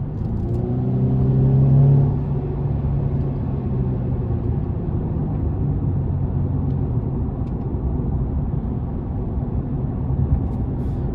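A 2017 Mercedes-Benz C300 in Sport Plus mode accelerates from inside the cabin, its engine note rising in pitch briefly before settling into a steady low road rumble.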